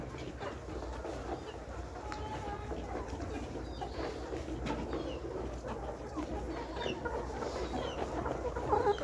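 A dense, steady chorus of many 16-week-old pullet hens clucking and murmuring together, continuous throughout like a crowded poultry shed.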